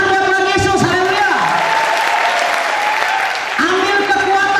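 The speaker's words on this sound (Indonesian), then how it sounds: "Tepuk tangan buat Tuhan Yesus, haleluya" A church congregation at a Christmas service claps together, the applause running throughout beneath sustained musical tones and voices.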